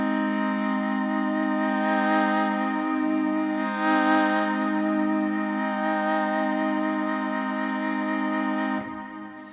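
A harmonium patch with an LFO swell holds a steady, bright, reedy chord with rich overtones, swelling gently in level before trailing off at the end, heard alone.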